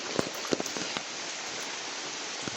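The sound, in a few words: heavy rain falling in backyard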